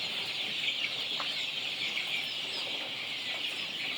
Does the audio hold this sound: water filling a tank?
no